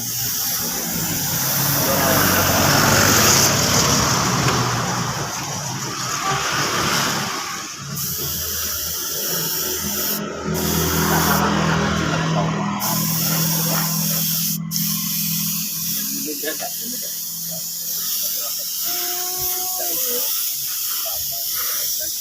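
Spray gun applying silver paint over a Honda Karisma motorcycle body panel, a steady hiss running in long bursts with short breaks, close by, while someone talks over parts of it.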